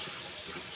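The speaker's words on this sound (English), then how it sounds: "give him a bit of a rinse with some warm water" Warm tap water runs in a short, steady splashing stream while a chicken is rinsed, close and continuous.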